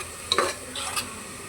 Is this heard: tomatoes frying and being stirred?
yes